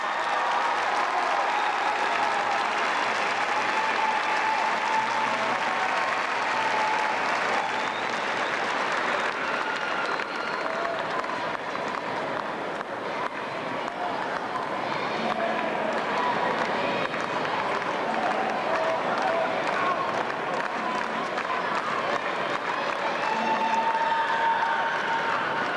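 The home crowd at a 1997 Jamesville-DeWitt versus Cazenovia high school football sectional final cheers and applauds in a constant, loud roar that holds for the whole stretch, with a commentator speaking over it.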